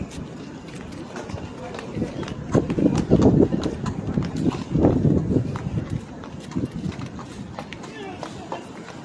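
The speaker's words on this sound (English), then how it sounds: "Hey, horsey, don't poop on my foot, please." A horse moves around close by, its hooves clip-clopping in irregular steps over a low background rumble.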